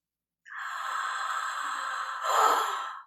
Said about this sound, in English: to the point that your breathing makes a rushing noise